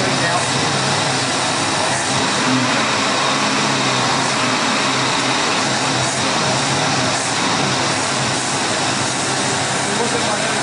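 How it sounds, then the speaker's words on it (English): Carbureted engine running under load on a very lean mixture, a loud, steady, unbroken roar with broad hiss and a low rumble, while someone talks over it. "There is something wrong with this carburetor. I have a load on it right now."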